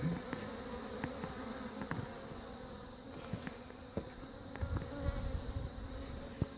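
Young honey bees at an open hive buzz in a steady drone, close by, with occasional clicks and taps scattered through the soft continuous hum.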